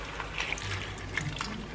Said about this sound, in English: Get our water in here.